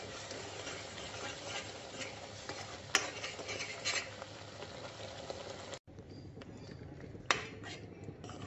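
Turmeric and coriander powder frying in a pan for a raw banana curry, a steady low sizzle with occasional spoon scrapes and clinks against the pan, nearby with no talking.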